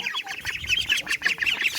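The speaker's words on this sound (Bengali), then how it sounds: "এখানে দেখো হাঁসের বাচ্চাগুলো দেখো কিরকম কিলবিল কিলবিল করছে।" A cluster of ducklings in the Sundarbans, India, peeping and squeaking rapidly and continuously, close by, with high chattering calls overlapping.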